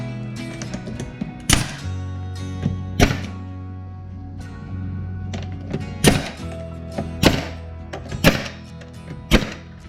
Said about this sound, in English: And I'll get my nail gun in place.